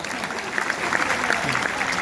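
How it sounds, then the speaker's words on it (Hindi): An audience applauds a poet at a Hindi poetry gathering: a steady, even wash of clapping from many hands for about two seconds, with faint voices mixed in. "अगर आप चाहते हैं तो मेरे लिए भी तालियां बजा सकते हैं।"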